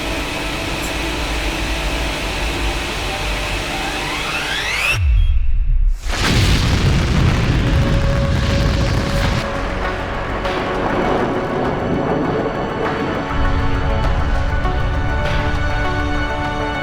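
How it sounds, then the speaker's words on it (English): A heavy electrodynamic launch assist fires in a video game, a loud sustained roaring rumble with a sharp boom and brief cutout, then a deep continuous hum with rising whine layered on top. "Electrodynamic launch assist sequence commencing."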